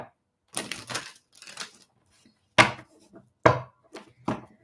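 Tarot cards are shuffled in a series of separate bursts: several crisp riffles and taps come close up with short pauses between them, and no one speaks.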